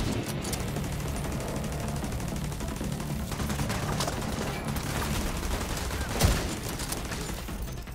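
Sustained turret gunfire in the video game The Division 2, a dense rapid stream of shots rattling continuously and fairly loud, with one sharper impact near the end and no talk over it.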